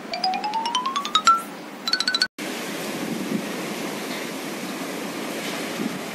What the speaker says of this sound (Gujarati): અત્યારે પવન ફૂલ છે